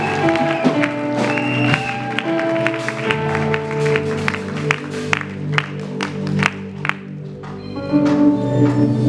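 Wedding guests at a civil and religious ceremony clap steadily for about nine seconds, the crowd applause mixed with sustained music and scattered voices, with sharper individual claps standing out near the end.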